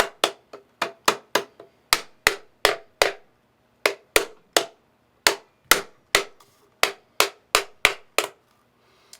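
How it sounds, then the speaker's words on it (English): A brass hammer taps a pump motor together with about two dozen sharp, close knocks that come in quick irregular bursts with short pauses between them. "Take my brass hammer and just kind of snug it."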